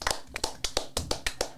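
A small group claps to welcome a podcast guest, the claps sparse and distinct in an uneven rhythm, close and clear with no talking over them.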